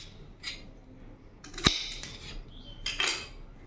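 Peeled raw mangoes being cut into pieces with a knife, a few sharp clicks and taps of the blade against the board or plate spaced out over a quiet background, no talk.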